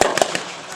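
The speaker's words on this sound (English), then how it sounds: "now you've got the 50 caliber machine guns opening up on the American half tracks there" Fifty-caliber machine guns open up on American half-tracks during a WWII battle reenactment, a short loud burst of sharp cracks at the start followed by a dense, sustained rattle of gunfire.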